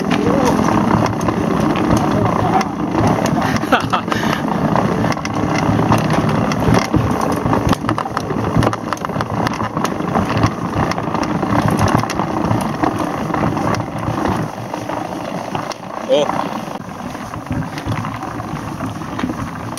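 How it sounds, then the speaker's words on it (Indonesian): Motorcycle engine on a rural uphill village road near Tanjungsari, Bogor, a steady close rumble running throughout, heavily mixed with strong wind buffeting on the microphone and a faint voice. "Suaranya itu motor."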